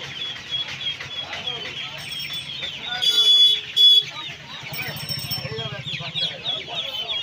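Golden hen chicks and hens cluck and cheep amid the crowded bustle of the weekly Uluberia poultry market, with voices talking over the steady background din.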